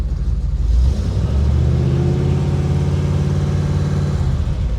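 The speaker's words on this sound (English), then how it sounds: "We'll give it a few revs, make sure it's not coughing and spluttering." A 1936 Chevy hot rod engine rumbles close by, revving up into a rough, throaty, steady roar.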